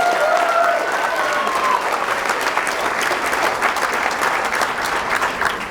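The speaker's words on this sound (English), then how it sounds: "Can we give Peter Hernandez a giant round of applause?" A large audience at a real estate keynote bursts into loud, sustained applause, dense clapping filling the room evenly throughout, with scattered crowd noise underneath.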